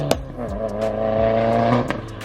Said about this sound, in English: That equal length header, you know, high pitched noise sounds amazing for the WRX